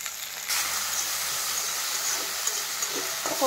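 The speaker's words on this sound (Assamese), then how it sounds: "মই এতিয়া আলুখিনি ভাজি লওঁ" Potato pieces frying alongside pork with fiddlehead fern in a Northeast Indian home kitchen, giving a steady bright sizzle and hiss throughout, close and continuous with no talking.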